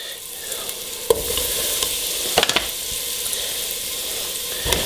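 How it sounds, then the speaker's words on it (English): Floured beef fries in hot oil, a dense, continuous close sizzle broken by a few sharp pops and clatters as the pieces are stirred, with no voices. "take the floured up beef that we did earlier, shake off as much excess as you can with a gloved hand, of course. Just throw that into the oil."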